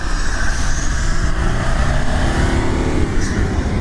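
A Lada Niva Bronto engine revs hard and steadily as the off-roader pulls away, a loud, close, continuous roar that holds its strain throughout.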